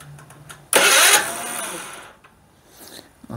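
A tri-fuel generator engine cranks briefly and then catches with a sudden loud burst that settles into a rough running note before fading, close to the microphone.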